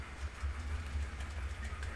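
An HO scale model train runs along a layout, a faint rumbling rattle with soft rhythmic clicks of wheels on track, steady and close.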